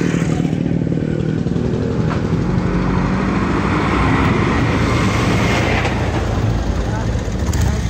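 Classic motorcycles, including a Yamaha RD 500, roar continuously at close range on an open road, a loud, steady engine drone mixed with heavy wind rush and no break in the noise.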